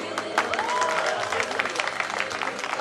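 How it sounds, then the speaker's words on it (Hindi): A fashion week audience applauding steadily for a few seconds, dense crackling claps with a faint voice and tone beneath. "जोरदार तालियां आ जाए"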